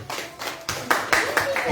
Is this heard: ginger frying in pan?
no